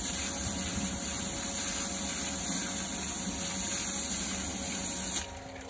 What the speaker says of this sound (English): I'm going to rinse out this one barrel.